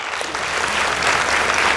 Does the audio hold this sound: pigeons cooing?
no